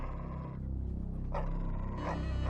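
A dog growls and barks in a low, rough, close snarl, loud and continuous for a couple of seconds, with no speech.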